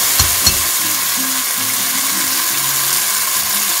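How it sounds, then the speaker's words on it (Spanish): Chopped garlic and parsley with saffron sizzle in a hot pan for a semolina soup, a bright, continuous frying hiss up close, with a couple of sharp clatters from a utensil near the start. "Y ahí le vamos a poner el picado del ajo y el perejil con el azafrán para rehogar un poquito"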